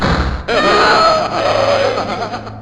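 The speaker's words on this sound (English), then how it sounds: "That sound is our brother, and his pain screams seem to be coming from above." A brother's pained screams ring out from above in the 1986 Mac adventure game Uninvited, a loud, sustained anguished wail with groaning tones that follows a brief low thud and runs to the end.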